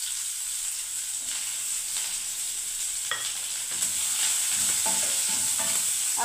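Two chopped onions go into a pan with other food and fry with a steady hiss. Stirring scrapes and clatters over the sizzle at close range.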